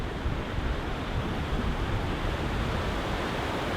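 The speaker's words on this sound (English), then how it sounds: "We're here at the spillway." Floodwater rushing over a river spillway during flooding in Goshen, a loud dense roar of churning water, steady and close with no voices.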